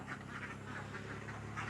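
Farm-raised domestic ducks quack in a quick series of faint, nasal calls, slightly distant over a steady background hum.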